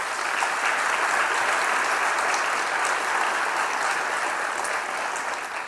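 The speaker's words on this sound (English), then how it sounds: "Can we please give them another round of applause?" Loud, sustained applause from a large audience at a county budget presentation, dense and even from start to finish with a slight fade at the close.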